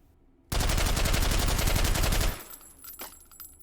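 A suppressed FAL rifle in the VR shooter H3VR fires a rapid burst of about two seconds, loud and close, then stops abruptly with a faint mechanical rattle trailing after.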